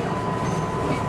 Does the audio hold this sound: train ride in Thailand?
yes